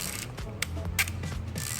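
Agfa film camera shutter mechanism being fired repeatedly during a test, a rapid series of close, crisp mechanical clicks and ratcheting snaps over about two seconds.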